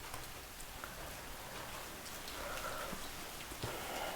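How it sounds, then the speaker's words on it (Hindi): Rain falling steadily during a spring storm, a soft, even hiss of drops with occasional patters, moderately quiet and continuous throughout with no talk. "बारिश स्टार्ट हो गया भाई"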